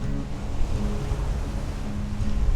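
Waves break against the Jeju Island shoreline in South Korea, a broad continuous roar of surf with wind noise, steady and fairly dense throughout with no talk.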